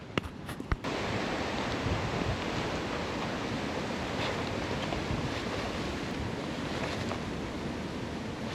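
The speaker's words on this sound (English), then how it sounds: "It's quite windy today" Wind roars outdoors in the Australian bush on a blustery day, buffeting the microphone in a steady, dense rush after a few brief clicks and knocks at the start.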